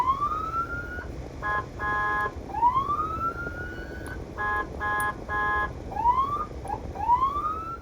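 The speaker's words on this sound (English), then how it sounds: "it has a siren mounted onto it. Take a listen." A loud siren mounted on a Mastiff armored truck wails in repeated rising sweeps, alternating with bursts of rapid pulsed electronic tones, with no voices.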